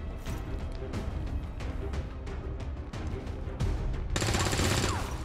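Gunfire rattles in XCOM 2: War of the Chosen as a series of sharp rapid shots across a noisy battle, ending in a louder sustained blast, with no talk over it.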